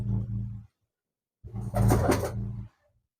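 Pigeons coo in two low, throaty bursts close by, with a short silent gap between them.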